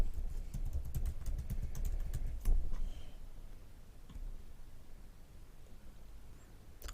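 Rapid keystrokes on a computer keyboard entering a password, a quick burst of clicks in the first few seconds followed by a sparse tap or two over quiet room noise.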